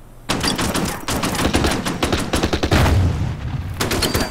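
A heavy artillery unit fires a direct shot in the Order of Battle Winter War game on the Karelian Isthmus, with loud rapid bursts of gunfire and booming blasts stacked together in dense volleys, separated by short pauses.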